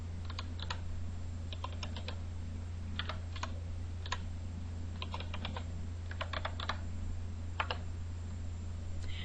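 Someone types a username and password on a computer keyboard, quick bursts of light clicking keystrokes over a steady low electrical hum, close and moderately quiet, with no talking.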